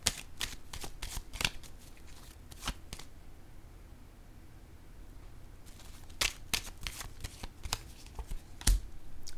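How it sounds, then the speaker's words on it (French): Cards handled during a tarot-style card reading, with a series of sharp, crisp slaps and flicks as a card is laid down on the table, scattered irregularly over quiet room tone. "je pense que je vais déposer une carte tout de suite ici"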